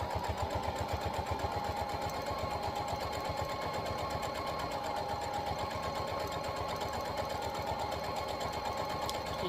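A sewing machine runs steadily for several seconds, sewing a straight stitch through the layers of a fabric key fob. The rapid needle rhythm is even and unbroken, close but fairly quiet, and no one talks.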